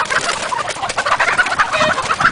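Ducks in a farm backyard give a busy, close chorus of quacking and clucking calls that overlap continuously and fairly loudly.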